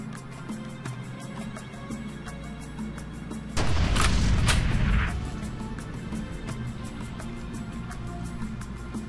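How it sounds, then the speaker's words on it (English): Automatic gun turrets fire in the desert of the video game Hard Truck Apocalypse, a dense burst of booming shots lasting about a second and a half, loud over a steady low engine drone. "Turrets all over the place."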